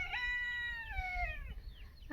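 Backyard pet chickens call just after grain is scattered for them, giving a few faint, drawn-out, falling squawks one after another, with no talking.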